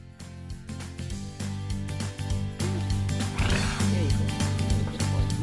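Donkeys at a donkey sanctuary bray loudly and repeatedly, close by, with rhythmic wheezing calls over a background that carries faint voices.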